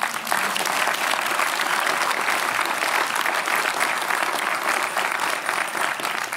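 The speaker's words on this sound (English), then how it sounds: "Please give yourselves a well-deserved round of applause." Graduating students at a University of Chicago commencement ceremony applaud themselves in a large crowd, producing dense, sustained clapping that stays loud and steady throughout.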